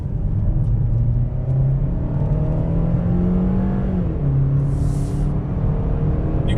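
A 2019 Chevrolet Sonic LT RS engine accelerating from inside the car, a steady close rumble whose pitch climbs over several seconds, then drops briefly as it shifts and keeps pulling.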